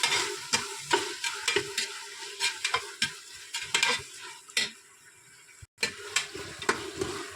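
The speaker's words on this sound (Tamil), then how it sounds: "இஞ்சி பூண்டு பேஸ்ட் போட போகிறோம். போகிற வரைக்கும் நல்லா வதக்கணும்." Ginger garlic paste sautéing in a pan, with a close sizzle broken by frequent clattering stirs and scrapes of a spoon, fairly busy and rhythmic, with a brief quiet gap near the end.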